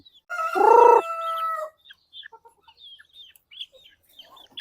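A close rooster crow rings out briefly, followed by scattered soft chirps and clucks from native chickens at feeding time.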